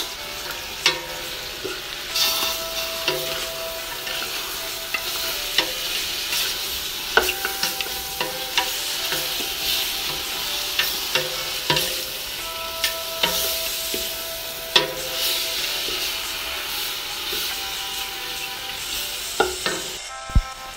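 A utensil scrapes and stirs through thick tomato paste in a hot frying pan, with steady sizzling underneath and occasional sharp clicks against the metal.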